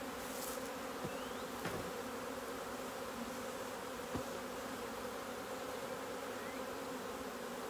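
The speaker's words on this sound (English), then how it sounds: "I'm not picking up a whole clump of bees" Honeybees buzz in a thick, continuous drone close by at an open hive being smoked, a steady swarm hum with a few faint knocks and taps.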